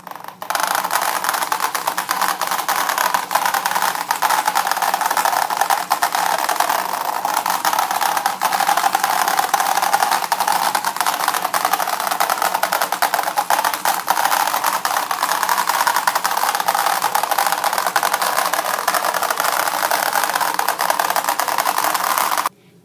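A small hoverboard robot driven by a vibrating motor with a cardboard weight on its shaft gives a steady, loud buzzing rattle with faint scraping, running continuously for over twenty seconds before cutting off.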